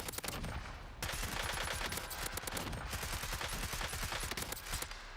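Model L rifle with recoil springs and eight attachments fired in Warzone, a loud continuous automatic burst of rapid close shots over about five seconds with a brief pause near the first second.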